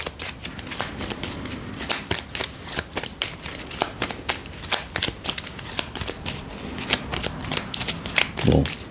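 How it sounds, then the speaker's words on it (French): Playing cards shuffled and riffled repeatedly during a tabletop dinosaur battle card game, a dense run of crisp flicking snaps over about nine seconds, close and fairly loud, with no talking. "On mélange avec une carte."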